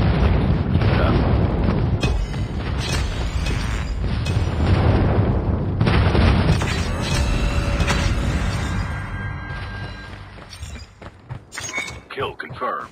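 Airstrike explosions in a Call of Duty match: loud, dense booms and shattering crashes rolling almost continuously, with voices talking over the blasts before the barrage thins out toward the end.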